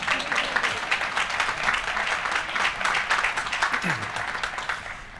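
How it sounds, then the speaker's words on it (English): Harvard Law School Class Day audience clapping for the speaker's parents seated in the third row, a broad, sustained wave of applause from a large crowd that tapers slightly at the end, with faint voices beneath. "You can clap for my parents."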